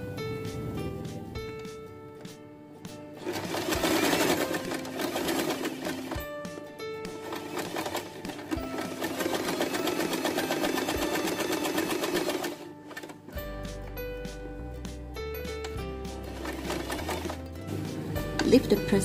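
A sewing machine stitches a baby bow headband in steady bursts of close, rapid whirring, pausing briefly between runs, with a low background hum and some faint talk.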